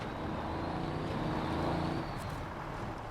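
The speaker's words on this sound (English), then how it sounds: "I like the sound of this truck. This truck sounds great." A truck engine in the video game SnowRunner drones steadily and fairly quietly, a low continuous rumble that swells a little midway and then settles, with no talk over it.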